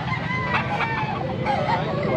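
Chicken market ambience with a young rooster (stag) and other fowl calling and clucking nearby, brief overlapping cries under a busy background.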